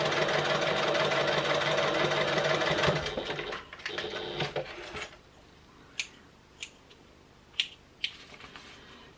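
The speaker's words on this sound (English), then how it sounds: "And then you can sew along the top to close it off as well." Sewing machine stitching along the top edge of a small clutch wallet to close it, running steadily for about three seconds, then stopping, followed by a few scattered sharp clicks and taps.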